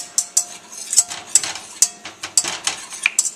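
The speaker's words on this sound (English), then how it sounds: "Sprinkle it in and get your whisk so we can mix it together." A metal whisk clanks and scrapes against a pot, working flour into a butter roux. The strikes come in quick, irregular bursts, some sharp ringing taps among the rhythmic scraping, close up and with no talk.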